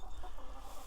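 Backyard hens in a chicken-wire coop give short, low clucks over a steady outdoor background, close to the listener.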